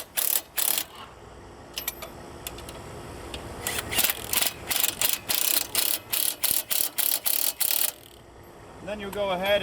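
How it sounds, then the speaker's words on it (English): A wrench ratchets in quick, evenly spaced clicks while tightening axle nuts on a 2007-2014 Nissan Altima, with a few scattered clicks early and then a brisk run of loud, close ratcheting toward the end. "Then you go ahead and tighten these guys back up."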